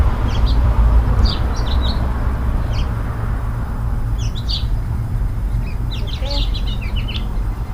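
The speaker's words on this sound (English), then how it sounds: "I hear birds, but I don't see them." Small birds hidden up in a garden tree chirp in short, high, scattered tweets, faint and somewhat distant over a steady low rumble of wind or background noise.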